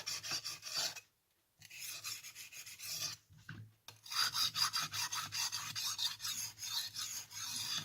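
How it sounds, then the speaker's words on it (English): A knife sharpened on a 1000 grit whetstone, fairly quiet close-up scraping in quick rhythmic strokes with two brief pauses, then a steady run of back-and-forth rasps. "And on the 1000 grit stone, I will also, you know, do it twice per side."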